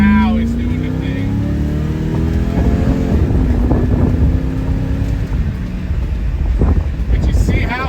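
A Chevy S10 with a modified carburetor sits on the power brake, the engine droning loud and near with a gradually rising then levelling pitch, wind buffeting the microphone as someone talks throughout.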